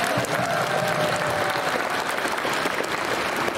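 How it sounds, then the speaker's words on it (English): Steady audience applause at a fan convention Q&A panel, continuous crowd clapping throughout with a faint voice underneath. "Give a hand clap for Alan."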